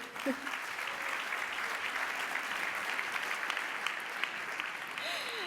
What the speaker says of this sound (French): oui, on va l'applaudir